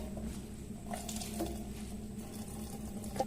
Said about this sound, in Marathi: परत एकदा कारलं मी पाण्यातून धुवून घेते